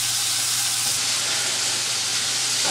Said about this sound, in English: We've got the heat nice and high because you want to make that bacon nice and crisp.